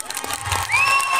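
A night carnival parade crowd in Denain cheers and applauds, a dense burst of clapping and shouting with a bright whistle rising near the end, all in a brief moment.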